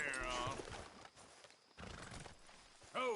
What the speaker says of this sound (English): Careful with that horse, Arthur.